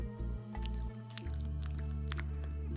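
Wet, sticky mouth smacking right after waking up: close, quiet squishes and clicks in an irregular rhythm over a low steady hum.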